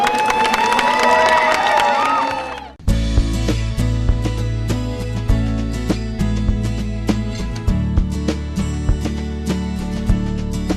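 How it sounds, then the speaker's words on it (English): An audience at a martial arts anniversary event claps and cheers, a short burst of shouting giving way to sustained clapping, with loud music playing over it. "Give yourselves a big clap."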